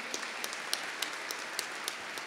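Soft steady applause fills a hall during a solemn council session, with a few sharper individual claps standing out at regular intervals, heard at a distance.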